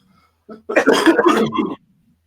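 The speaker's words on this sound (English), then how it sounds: "let me get the coughs out" A single close burst of rough throat clearing and coughing, harsh and rasping, lasting about a second in otherwise quiet surroundings.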